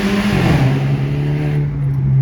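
A car engine revs hard and steady, a deep throaty roar echoing as if in an enclosed underpass, loud and close throughout.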